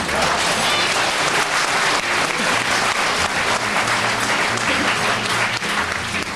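Studio audience on a 1987 Icelandic TV quiz show between Akureyri and Reykjavík teams applauds loudly and steadily, dense clapping filling the room without a break.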